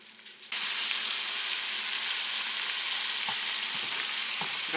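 Food browning in a frying pan, giving a steady, dense sizzle that starts suddenly and continues evenly throughout with occasional soft pops and spatters.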